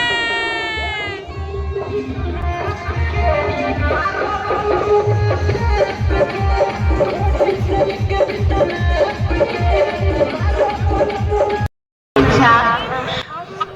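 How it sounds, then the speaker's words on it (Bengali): A dense, packed crowd at a village fair (mela) in Bengal, a continuous loud hubbub of many voices with children's shouts and distant music, steady throughout with a brief dropout near the end. "মেলায় বিভৎস ভিড় মানে পা ফেলার জায়গা পর্যন্ত নেই এত ভিড়"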